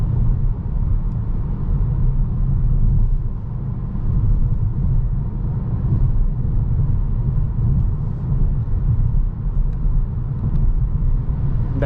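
A 2022 Peugeot 308 plug-in hybrid cruises steadily at highway speed in 8th gear, a constant loud low rumble of road and engine noise heard from inside the cabin, with no talking.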